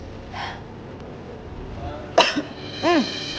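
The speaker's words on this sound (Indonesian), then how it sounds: "Kamu kok batuk-batuk?" A few short, sharp coughs break out near the end after a quiet stretch, close and abrupt.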